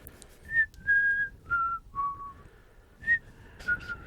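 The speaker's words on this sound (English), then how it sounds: "Who's whistling?" A series of clear whistled notes, a short tune of sustained and sliding pitches with brief pauses between phrases.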